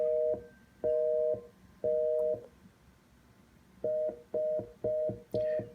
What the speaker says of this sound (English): we have precise busy